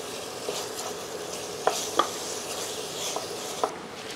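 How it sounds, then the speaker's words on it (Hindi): Mutton sizzling in mustard oil over medium heat, with a steady soft frying hiss and a few sharp clicks of a spoon stirring against the pot. "थोड़ा सा इसमें सरसों का तेल, अतिरिक्त तेल सम्मिलित करते हैं और इसको इसमें भूनते हैं"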